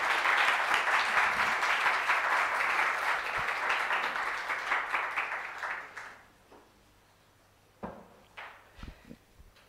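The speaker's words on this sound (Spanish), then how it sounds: "creo que es para darles un enorme aplauso" Broad audience applause, loud and steady for about six seconds, then fading out to a few scattered claps and small knocks.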